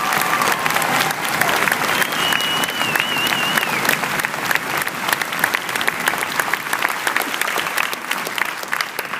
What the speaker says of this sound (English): Please join me in a round of applause for our great drill sergeants.